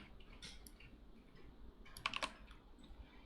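Quiet computer keyboard typing while writing code, a few scattered clicks with a quick flurry of keystrokes near the middle, faint and close with no talk.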